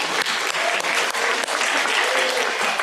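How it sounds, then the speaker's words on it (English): Dense, sustained applause fills a church hall during a Sunday service, many people clapping steadily and loudly with no pause. "That deserves an applause."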